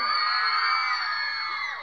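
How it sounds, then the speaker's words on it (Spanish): A crowd of young people lets out a sustained joyful shout at a Catholic song performance in Nahualá, many voices cheering together at once, loud and steady before slowly tapering. "un grito de júbilo"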